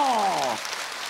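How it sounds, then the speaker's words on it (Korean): Applause from a crowd at an outdoor televised national singing contest in Sacheon, Gyeongnam, a brief wash of clapping that rises right after a held sung or spoken tone ends. "박수 한번 쳐주이소"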